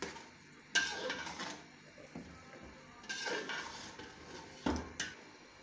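Chickpeas fried in spiced masala in a pot while being stirred, with a few sharp metallic clanks of the spoon against the pot over soft scraping and a faint background sizzle.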